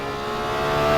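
A race car engine in the Simraceway racing game, driver holding back the revs, holds a steady whirring drone that swells gradually louder over one second, with no voices.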